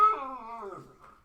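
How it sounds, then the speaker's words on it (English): A pet dog lets out a single drawn-out whimpering howl that wavers and falls away over about a second, close and clear, with no talking. "That's my dog talking there, he's getting involved in the video."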